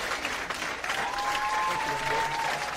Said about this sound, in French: moi je demande les rires avec applaudissements pour Juliette.